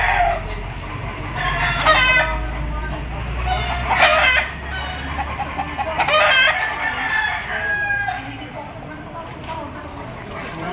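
Gamecock roosters crowing repeatedly at a busy fighting-cock market in Lipa, Batangas, several loud crows in a row over clucking and a constant murmur of people talking nearby.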